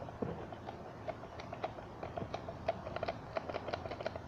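Small plastic clicks from the switch on a GF FalconAG1000 RC car remote controller, a string of light, crisp snaps spaced irregularly over a low background hum, close and fairly faint.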